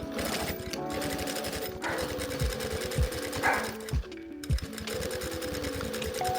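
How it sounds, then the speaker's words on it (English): A sewing machine stitches along the arms of a corset top, its fast, steady mechanical rattle running continuously and close, broken by a few brief pauses and soft thumps as the fabric is handled. "flip it over and just stitch alongside here to finish off both arms"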